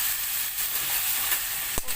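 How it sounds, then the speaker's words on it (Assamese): Chicken with elephant foot yam fries on high flame in a pan, a loud continuous hiss of sizzling oil with a short sharp clatter of stirring near the end, close and uninterrupted, with no talking. "অকণমান সময় হাই ফ্লেমতে ভালদৰে ভাজি ল'ম"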